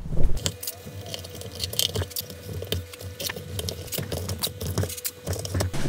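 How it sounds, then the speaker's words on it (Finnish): Adhesive tape is pulled and pressed down to form a tunnel for an air intake on a car headlight housing, giving close, irregular crinkling and sticky peeling bursts with no speech. "Seuraavaksi tän mä nyt teippaan täältä tonne ja siitä sitten muodostuu se tunneli"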